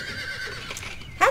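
A horse whinnies in the video game Star Stable Online, a short, fairly loud neigh that rises at the end over a quiet game background.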